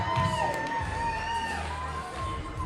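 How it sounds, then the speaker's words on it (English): A wrestling crowd at a WrestleARTS show in a theater cheers and shouts continuously, with whoops and a sustained roar. "Jeffrey John has this crowd all riled up"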